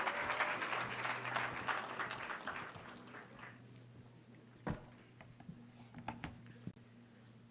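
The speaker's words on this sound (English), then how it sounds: "please honor the recipient with a resounding applause" An audience at a graduation ceremony applauds an award recipient with sustained, moderately loud clapping that thins into a few scattered claps and faint taps toward the end.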